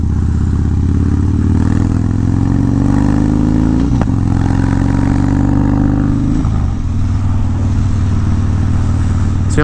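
Harley-Davidson motorcycle cruising at about 40 mph, a loud, steady engine rumble with heavy wind roar throughout and a slight pitch shift midway as the engine changes load.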